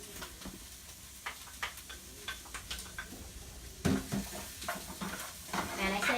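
Garlic sautéing in a pan with Brussels sprouts and turkey bacon, soft sizzling under scattered spatula ticks and scrapes, with a louder stirring burst midway, faint and close.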